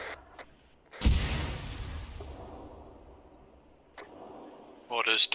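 Artillery in a military video game fires with a loud sudden boom whose rumble rolls and decays over several seconds, followed by a sharper crack and a burst of distant impacts; a voice talks faintly.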